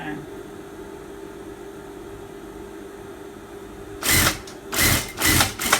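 A sewing machine stitches down a shirt seam in several short bursts near the end, following a stretch of quiet room hum.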